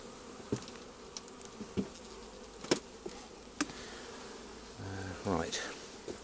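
Honey bees in a busy, crowded hive give a steady close buzz, with soft clicks and knocks from frames being handled and a brief voice near the end.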